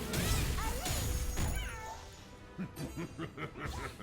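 A summoner's cat pet from Blade & Soul meows several times, with short rising and falling cries over busy game combat sounds and impacts, ending in a rapid run of quick mews.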